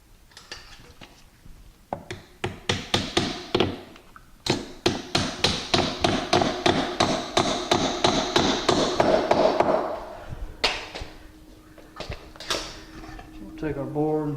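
Cut quarter-inch wooden shim tacked into a window jamb with a hammer, a run of rapid close sharp taps building in pace, then a few slower knocks, with a voice talking partway through.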